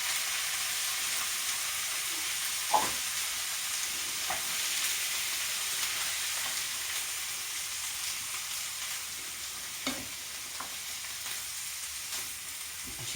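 Canned tomatoes poured into a hot frying pan for a Quorn pasta dish give a steady, fairly quiet sizzle and hiss throughout, with a few brief soft stirring knocks and no talking.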